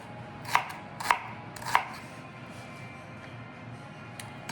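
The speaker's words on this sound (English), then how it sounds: "Just rough chop." Three sharp knife strikes through food on a cutting board, spaced about half a second apart, then a quiet pause with faint room noise and one last soft tap at the end; a rough chop while making Hủ Tiếu Nam Vang noodle soup.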